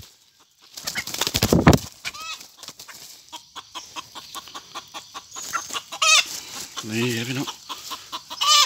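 A female jungle fowl hen clucks in short, repeated calls outdoors, fairly close, among other fowl sounds, while someone talks over and between them.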